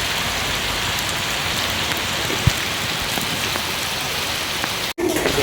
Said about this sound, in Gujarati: ધીમો ધીમો વરસાદ આવે છે